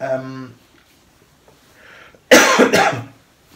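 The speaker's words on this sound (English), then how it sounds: "that was a cough and a half" A single loud, harsh cough bursts out close to the microphone after a spoken phrase and a quiet pause, ending in a second rough burst before fading.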